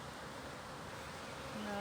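Honey bees buzz in a dense, steady drone around an opened hive during a spring beeyard inspection, the swarm sound close and continuous with a few individual bees whining nearer toward the end.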